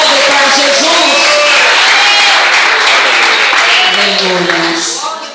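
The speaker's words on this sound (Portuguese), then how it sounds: "Aplauda o Senhor nesse momento." A church congregation applauds loudly and keeps it up through the whole stretch, with cheers and shouting voices rising over the dense clapping before it eases slightly at the end.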